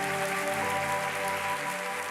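A church congregation claps continuously during worship, the applause blending with sustained music tones underneath.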